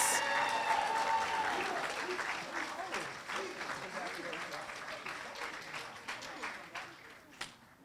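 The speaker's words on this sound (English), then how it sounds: "Let's give this great group of dedicated mentors one more round of applause for all of their service." Applause for mentors at an awards and induction ceremony, a dense wash of clapping from a crowd that starts loud and gradually thins and fades, with a few separate claps near the end.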